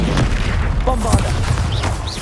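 A Bombarda spell blast in Hogwarts Legacy hits as a loud, deep boom with a sustained rumble, while a voice briefly cuts through the blast.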